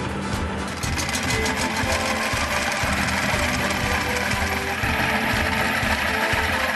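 A concrete floor grinder with abrasive blocks runs loud and steady throughout, a dense continuous mechanical roar with a fast grinding pulse underneath.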